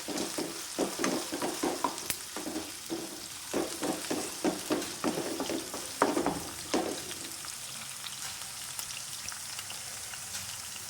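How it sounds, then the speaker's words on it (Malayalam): Onions and curry leaves sautéing in a pan for a home-made sambar, with close crackling sizzle and scraping stir strokes for about seven seconds before the pan settles to a quieter steady hiss. "രണ്ട് വേപ്പിലയൊക്കെ കൂടി ഇട്ടിട്ടാണ് കേട്ടോ ഉള്ളി വാട്ടണത്"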